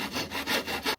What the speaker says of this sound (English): I had to buy a saw.